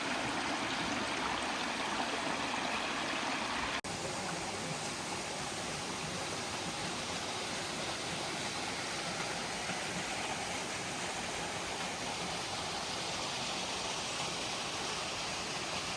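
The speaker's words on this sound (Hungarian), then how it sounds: "Itt aztán bőven van csobogás." A babbling mountain stream in the Austrian Alps rushes as a dense, even wash of water noise, steady and fairly close throughout with no voices.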